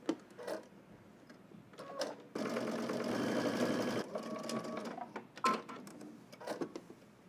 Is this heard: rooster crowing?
no